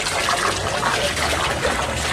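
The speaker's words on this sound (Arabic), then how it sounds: "عم نعبي مي" Water running from a tap into containers during a water shortage in a city neighbourhood, a steady broadband rush and trickle lasting throughout, fairly close and continuous with no talk over it.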